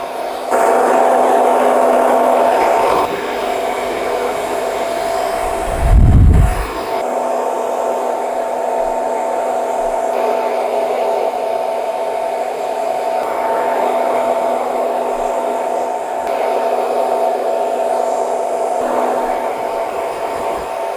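A hair dryer blows steadily and loudly up close while drying and styling hair, a constant whooshing drone over about twenty seconds with one brief muffled bump partway through and no speech.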